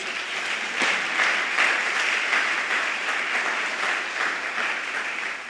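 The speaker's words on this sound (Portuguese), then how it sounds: "Você pode aplaudir a Jesus." A church congregation breaks into steady, sustained applause, many hands clapping together at an even level as the sound swells slightly and then holds.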